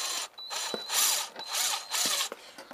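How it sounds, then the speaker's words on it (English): A variable speed power drill whirs in several short bursts while drilling glass, its pitch rising and falling as the speed changes, with brief pauses between runs. "Best to use a variable speed drill so you have total control."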